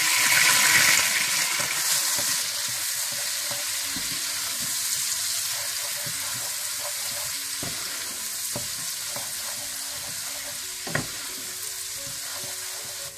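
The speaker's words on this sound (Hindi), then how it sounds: "इसमें आप लहसुन डाल दें और लहसुन को थोड़ा सा भून लें।" Garlic sizzles and crackles in hot butter in a pan for chicken pasta, a steady frying hiss with occasional small pops and stirring clicks.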